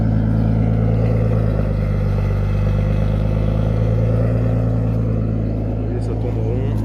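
A rebuilt BMW turbo car engine idles with a low, steady rumble and a constant tonal hum, running smoothly and evenly at close range.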